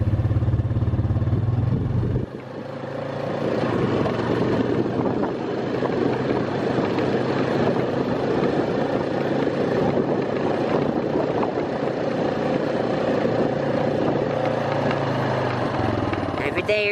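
A 4-wheeler rumbling loudly through bumpy farm fields, its steady engine drone joined by clattering jolts throughout, with a brief lower hum at the start.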